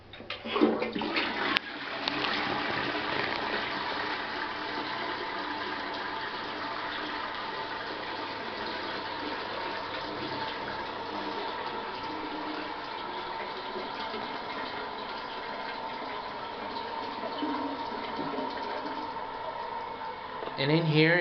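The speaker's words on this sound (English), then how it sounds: "we're gonna go ahead and try out the flush test for the commode." A hotel toilet in a Singapore riverfront hotel bathroom flushes with a sudden rush of water, then a long steady refill hiss that carries on for about twenty seconds, close and fairly loud.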